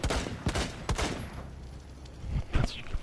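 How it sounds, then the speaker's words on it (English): Rapid bursts of gunfire from the video game Rainbow Six Siege, a few sharp volleys spaced through the moment with a final cluster of shots, loud and close, with no voices over them. "Rob, shoot that shit"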